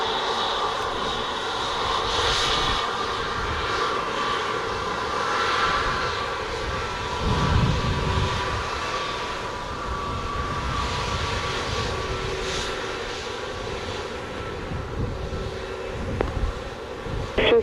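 Airplane engines rumble steadily at Montego Bay airport in Jamaica, a sustained drone with a tonal whine from an aircraft holding near the runway, with a faint radio voice in the background.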